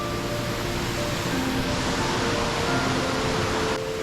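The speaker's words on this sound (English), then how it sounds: "Gorton Creek turns into just a cascade of waterfalls." Gorton Creek tumbling through a cascade of waterfalls in an Oregon forest, a loud, steady broadband rush of water that stays constant throughout, with no voices.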